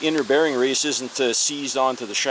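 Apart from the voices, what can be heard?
No everyday noise stands out behind the speech.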